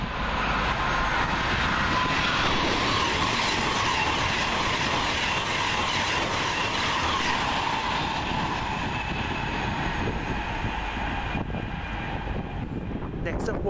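A passenger train from Birmingham New Street to London Euston runs through Wolverton station with a steady, loud rumble of wheels and rail noise that holds for the whole stretch, easing slightly near the end.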